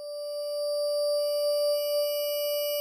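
Omnisphere synthesizer soundscape patch with LFO morphing: a steady sustained tone with a bright, shrill stack of overtones, held at an even level for a few seconds with slight swells, no voices.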